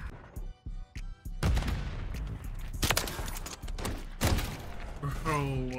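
Gunfire in Call of Duty MW3 around a Kar98k rifle, with a few short bursts early, then heavier booming shots and thuds at moderate volume mixed with in-game sounds, while someone talks over parts of it.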